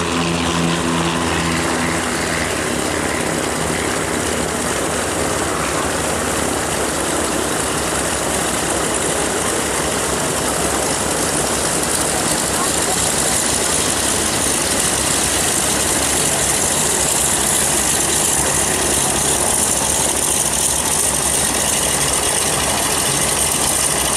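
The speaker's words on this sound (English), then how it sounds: "So here's a plane that had just arrived from that tour." Ford Tri-Motor airplane with its engines running steadily after landing from a sightseeing flight near Long Beach Airport, a continuous loud propeller drone and idle rumble filling the scene without a break.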